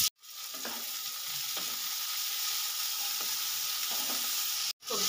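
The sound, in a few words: capsicum, carrot and potato being stir-fried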